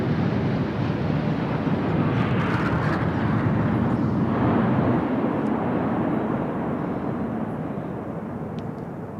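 Indian Air Force Eklavya formation flypast at a Republic Day parade, roughly 300 metres up at 780 km/h: a loud, continuous jet roar with wind buffeting that slowly fades toward the end.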